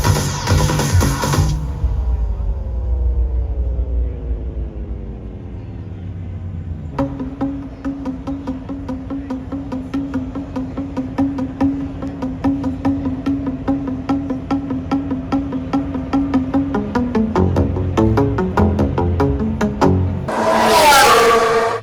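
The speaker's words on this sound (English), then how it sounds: "we get to experience some actual fast cars on the track for longer than 9 minutes" Formula 1 race cars scream past on the Las Vegas Grand Prix street circuit, one after another, loud and sustained, with engine pitch sweeping up and down through Doppler passes and a louder pass near the end.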